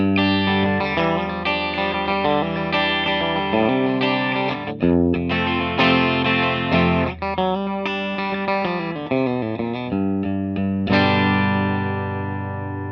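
Electric guitar played through the silver side of a J Rockett Archer overdrive pedal into a 1968 reissue Fender Deluxe Reverb amp, ringing out bright, articulate chords and single notes with steady sustain, close and loud, no talking.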